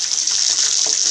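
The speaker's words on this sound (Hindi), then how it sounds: "यहाँ हो रहा है चिकन फ्राई," Chicken frying in a pan gives off a steady, loud, hissing sizzle that holds without a break, with no voices over it.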